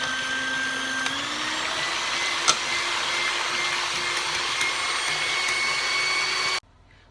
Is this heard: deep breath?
no